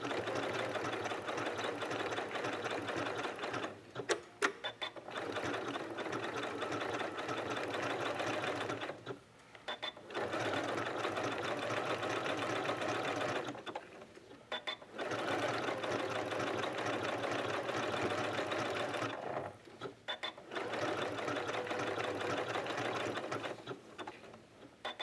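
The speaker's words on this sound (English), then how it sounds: "When I do decorative stitching, especially on a circle, I like to keep my hands flat on both sides to keep everything smooth." A sewing machine runs decorative stitching around a circle appliqué on quilting fabric, its needle chattering in steady bursts of several seconds separated by brief pauses, close and fairly loud.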